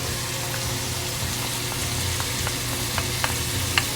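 Ginger paste sizzles with chopped chicken in a pan over high heat, a steady dense frying hiss with a few small pops and crackles near the end, no voices.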